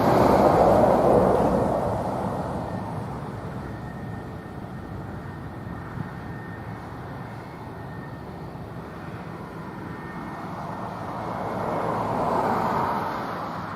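F-15 fighter jets land at Lakenheath, a distant jet roar that swells loudly at the start, eases into a low rumble, then swells again toward the end.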